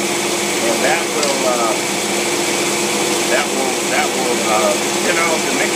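Customer's carbureted engine running on a test, a steady high-pitched mechanical whine with constant loud drone throughout, while someone talks over it.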